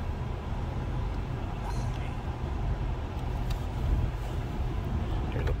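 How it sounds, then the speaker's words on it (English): A steady, broadband whoosh of the blower fan in a 1995 Pontiac Grand Prix Special Edition Coupe runs continuously at even volume, with a low rumble underneath and no pauses. "Hear the blower fan going there."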